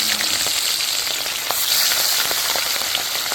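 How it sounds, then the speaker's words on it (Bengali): Salted, turmeric-rubbed hilsa fish fries in well-heated oil, giving a steady, close, loud sizzle with scattered crackles and pops throughout and no talking. "আস্তে করে আমি তেলের মধ্যে দিয়ে দেবো আর তেলটাও ভালো মতো গরম হয়ে গেছে"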